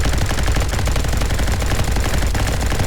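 An LMG fires in a Roblox game imitating Call of Duty: dense, sustained automatic bursts with no pauses, loud and close, running the whole time with no talking.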